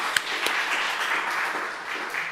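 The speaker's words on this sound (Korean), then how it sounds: "우리 박수로 하나님 앞에 감사와 축하의 박수를 드리겠습니다." A church congregation at a 45th anniversary thanksgiving service applauds together, giving a steady, even wash of many hands clapping for a couple of seconds, with one sharper clap near the start.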